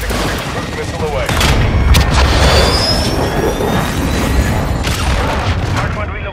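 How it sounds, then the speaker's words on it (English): A cruise missile strike in Call of Duty: Modern Warfare II lands as a heavy, loud explosion with a deep rumbling boom that rolls on for several seconds, mixed with crackling debris and battlefield noise. "Trojan 66 cruise missile away."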